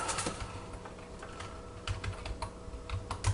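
Fingers typing on a computer keyboard, a close run of quick, uneven clicking keystrokes with small bursts and brief pauses, moderately loud over a low room hum.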